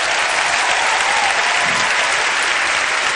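A church congregation claps together in sustained, dense applause, loud and steady from start to finish with no pauses.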